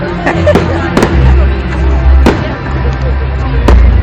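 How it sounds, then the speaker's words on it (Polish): Fireworks at the Knurów town festival in Poland pop and crack in sharp bursts at irregular intervals over a low rumble, with a crowd murmuring and chatter underneath. "Ciekawe ile wydali hajsu na te fajerwerki."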